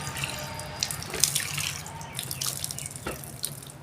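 Tap water runs steadily into a sink during ritual ablution before prayer, a continuous close splashing stream with small drips and hand splashes, no one speaking.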